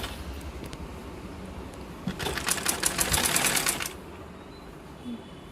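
A sewing machine stitches a hook belt piece onto a lined blouse in one steady run of close, rapid needle clatter lasting about two seconds, with quiet room noise before and after.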